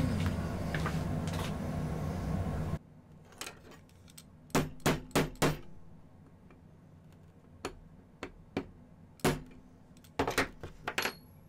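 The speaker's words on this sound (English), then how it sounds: "I'm going to use a dabbing punch to spread that open a little bit so that this can't come off" A hammer strikes a dabbing punch to spread a piece of silver in a jewelry workshop. The sharp metallic taps come singly and in quick clusters of two to four, close and fairly quiet, after a few seconds of low background hum.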